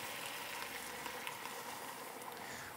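Dark beer poured into a hot pot of browned meat, giving a steady, dense sizzle and bubbling hiss that stays even throughout, with no talking.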